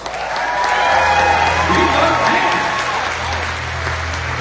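Loud, dense applause from a large crowd at a recognition ceremony as people walk across a stage, steady throughout, with some cheering mixed into the clapping.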